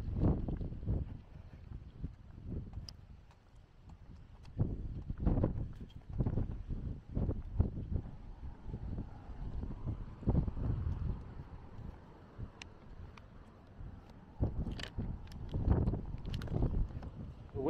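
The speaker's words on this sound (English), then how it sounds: "The wind is very aggressive out here." Strong gusty wind buffets an outdoor microphone along a walking path, with loud low rumbling bursts rising and falling irregularly and quieter lulls in between.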